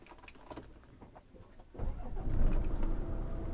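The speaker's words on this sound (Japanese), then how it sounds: "それではエンジンいきますね。" Scania Super truck diesel engine cranks and starts cold at about 1.8 seconds, rising to a loud, rumbling low idle after quieter rustling and clicks inside the cab.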